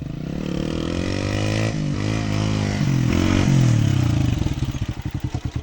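A motorcycle engine idles and revs close by, its steady hum rising and shifting in pitch before settling into a throbbing, pulsing idle at the end.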